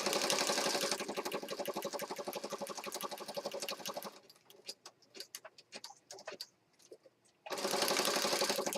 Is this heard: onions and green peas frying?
no